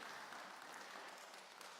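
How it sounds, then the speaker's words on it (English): Congregation at a Shabbat service in a temple clapping together, a steady patter of many hands, faint and distant. "Can we give our girls a Shabbat clap?"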